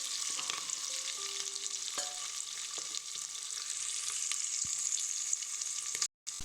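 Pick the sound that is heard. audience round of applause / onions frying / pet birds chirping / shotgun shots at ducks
onions frying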